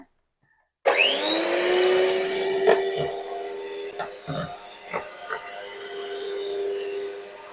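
An electric hand mixer beats eggs for a butterscotch cake batter on its first speed, starting abruptly after a brief silence and then whirring steadily and loudly, with a few clicks of the beaters against the bowl.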